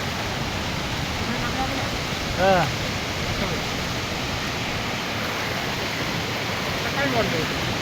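A village river in the rainy season rushes with a steady, dense wash of flowing water that stays even throughout, with a couple of brief, faint voice-like sounds rising above it.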